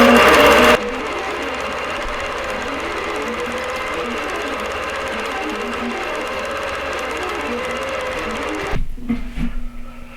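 A quilting sewing machine stitching a quilt row, a steady mechanical whir with a rhythmic chattering pulse that runs throughout, opening with a brief louder burst and ending with scattered clicks and handling noise.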